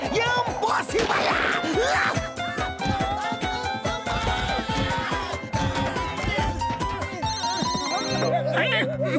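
A cartoon telephone ringing effect, a bright repeated bell pattern in the later seconds over busy background music and effects from an animated comedy.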